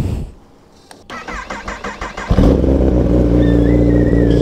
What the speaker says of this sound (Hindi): फटाफट से हम अभी कोल्ड स्टार्ट करते हैं